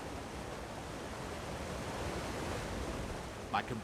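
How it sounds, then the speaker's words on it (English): Steady broadband rushing of a waterfall inside a cave in Elder Scrolls Online's Clockwork City, a continuous even roar heard alone, with a brief faint chirp near the end. "Here, behind the waterfall!"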